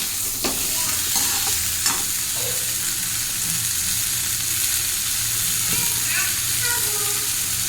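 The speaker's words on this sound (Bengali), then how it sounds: "আলু কুমড়োটা একটু কষাই করে নেব টমেটো লাগতে দেবো" Potato and pumpkin pieces sautéed in a pan, a loud, steady close sizzle with occasional spatula scrapes and knocks against the pan, without voices.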